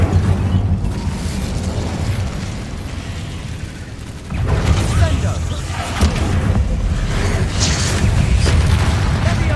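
Fire spells cast in the video game Hogwarts Legacy: loud roaring booms and fiery bursts over a continuous rumbling battle bed, with a brief dip before the blasts surge again.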